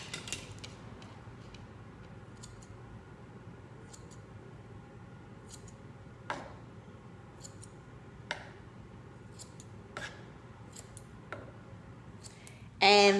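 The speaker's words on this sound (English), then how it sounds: "give me just a second so I can cut this right here at an angle we can all see" Scissors snip through a glueless lace front wig, a few sharp, faint cuts spaced seconds apart over a low, steady room hum, with a louder burst of handling at the very end.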